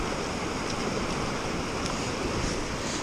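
A fishing river flows steadily nearby, a broad, even rush of water with no pauses or voices.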